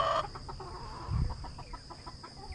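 A chicken clucks in a short run of quick, evenly spaced clucks, close by and fairly clear, after a brief louder burst at the start, with a steady high hiss in the background.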